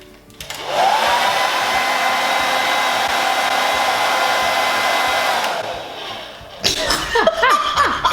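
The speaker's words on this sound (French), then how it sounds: "tape 3 fois sur ton sèche-cheveux et commence à sécher tes cheveux" A hair dryer blows with a loud, steady whir for several seconds while drying curly hair, then cuts off, followed by brief rustling and handling noises.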